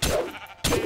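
Two quick bleats from a sheep in the modded Minecraft game RLcraft, close and clear, separated by a brief pause, with no talking.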